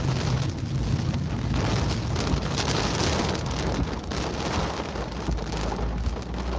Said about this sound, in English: we're starting to get some gusty winds, exceeding 20 miles an hour here